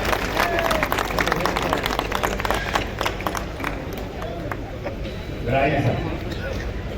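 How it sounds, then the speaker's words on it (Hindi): At a Hindi kavi sammelan poetry gathering in Anupshahr, an audience breaks into brisk clapping, strongest early and thinning out, while people talk over it nearby. "जोरदार ताली बजाएंगे सर"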